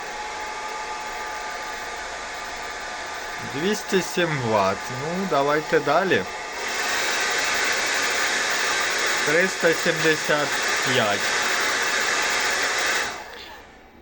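A hair dryer runs continuously with a steady whooshing blow, its tone shifting between settings, while someone speaks briefly over it at intervals.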